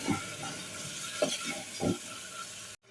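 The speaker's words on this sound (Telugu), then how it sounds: "ఇవంతా బాగా వేగిన తర్వాత గరం మసాలా మరికొద్దిసేపు వేయించుకొని" Spices and garam masala fry for bagara rice with a soft, steady sizzle, broken by a few stirring scrapes, before the sound cuts off abruptly.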